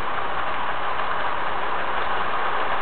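A model train runs on layout track, producing a steady, continuous whirring rumble that holds at an even level throughout, close by and with no talking.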